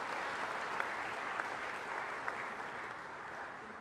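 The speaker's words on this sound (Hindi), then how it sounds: "एक बार शिवेंद्र जी का भी ताली बजा के स्वागत कीजिए" Steady audience applause at an awards ceremony in Bhopal honouring sportspersons, a broad continuous wash of clapping from a crowd welcoming a guest, with a few sharper individual claps standing out and no speech.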